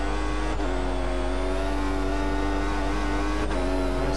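A Formula 1 car engine in the racing game F1 2014 at Japan, screaming at high revs with two quick upshifts that briefly drop the pitch, loud and steady throughout with no voice.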